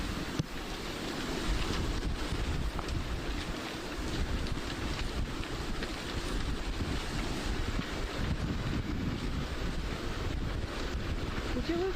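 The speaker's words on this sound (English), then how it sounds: "listen into the picture every once in a while and get a sense of how windy it is" Strong, gusty wind buffets the microphone during the Los Angeles wildfire evacuation, a steady loud roar with rumbling bursts that never lets up for the full length.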